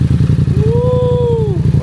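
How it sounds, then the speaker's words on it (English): A Yamaha R7 motorcycle with a 3/4 exhaust system, just after a cold start, rumbles at a steady, deep, close idle with a faint whistling tone above it. "let's get this cold start going"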